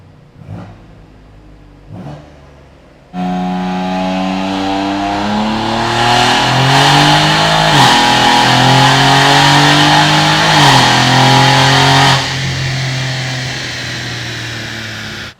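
A car with an LS7 V8 on a record cam-and-heads setup idles with a couple of blips, then roars into a loud, sustained rev with rising and falling pitch before easing back.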